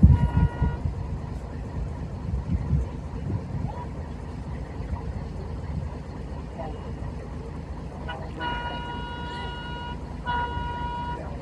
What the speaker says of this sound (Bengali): খুলনা অভিমুখী নকশিকাথা কমিউটার ট্রেনটি এখন চলে এসেছে